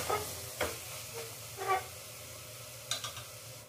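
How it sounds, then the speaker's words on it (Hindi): Paneer curry masala with green chilli paste and salt fries on a low flame. A faint, soft sizzle runs underneath a few distinct spoon scrapes and clinks spaced a second or so apart. "इसे हम भूनेंगे धीमी आंच पर"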